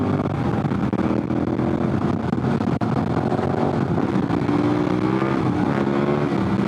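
A dual sport motorcycle on Heidenau K60 Scout tires rides fast through high-speed twisties on Highway 18, its engine droning loud and close with shifting revs over continuous wind rush.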